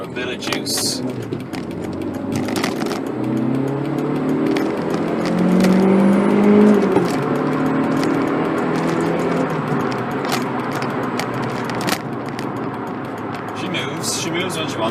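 A Volkswagen Polo GTI engine revs up, its pitch climbing steadily then easing off, with clicks and rattles over the drone, heard from inside the car.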